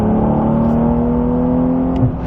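Porsche 992 Carrera T with its rear-mounted engine driven through twisty corners, a steady, close engine drone with a sustained low hum and strong harmonics, holding fairly even and dipping slightly near the end.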